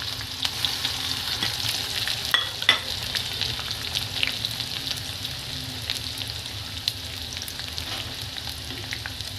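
Onion and peanuts frying in a pan for upma, a steady close sizzle with occasional spatula scrapes and light knocks as the mixture is stirred, no talk.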